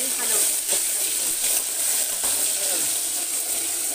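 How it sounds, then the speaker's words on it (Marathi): Chopped tomatoes and ginger-garlic paste sizzle loudly and continuously in hot oil in a pan while being stirred, a dense, close crackle that runs the whole time. "आता मी हलवते."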